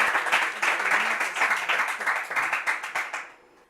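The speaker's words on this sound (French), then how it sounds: "On peut tous les applaudir," Audience applauding contestants of a televised Bible quiz, with dense, sustained clapping from a crowd holding steady for several seconds before quickly tapering off at the end.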